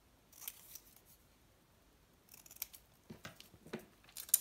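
Scissors snip straw paper at a crafting desk, making a few crisp cuts, then a quicker run of close, quiet snips.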